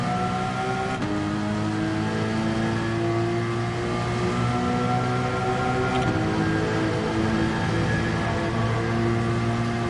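Race car engine in Gran Turismo 7 echoing through tunnels, a steady droning high-revving whine with layered harmonics, held at constant loudness throughout, no voices.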